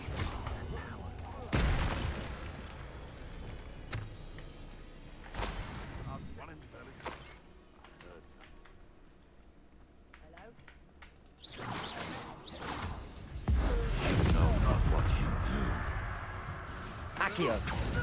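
Spells cast in combat in Hogwarts Legacy, with sharp whooshing bursts and booming impacts separated by quieter gaps and a loud, heavy explosion near the end, while a character's voice speaks between the casts.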